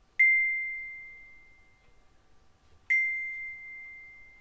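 A metal chime bar on a mount rings out twice when struck with a beater, each hit a clear, sustained pure tone that decays slowly in an otherwise quiet room.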